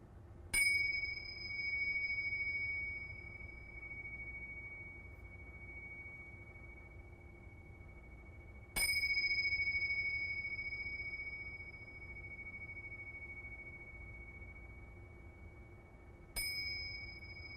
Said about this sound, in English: take your awareness to the sound of the bell